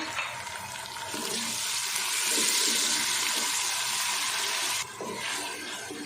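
Water pours steadily into a cooking dal masala with chopped tomatoes, a rushing, hissing splash that runs for several seconds, then briefly drops and resumes.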